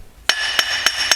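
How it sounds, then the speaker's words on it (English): Hammer striking a seized brake disc on a Mitsubishi L200 to knock it loose: four sharp metallic blows at an even pace, close and ringing, with no talk over them. "a hammer is in order to just dislodge it, and then it should pull out nicely."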